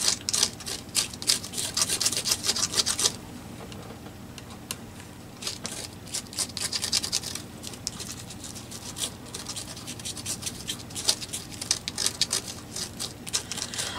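Metallic texture paste rubbed onto a playing card makes a steady close scratching and rasping that runs continuously, briefly quieter in the middle before picking back up.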